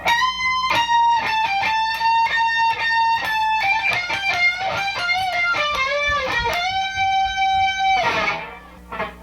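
Electric guitar solo phrases from a song with sliding string bends and quick picked notes, overdriven tone, ending on a bent note and a rough strum.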